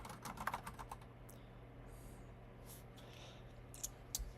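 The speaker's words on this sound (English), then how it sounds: "I can't type on this keyboard yet" Keys on a computer keyboard clatter in a quick burst of typing, then a few scattered taps follow over a low steady hum, all faint and fairly close, with no speech.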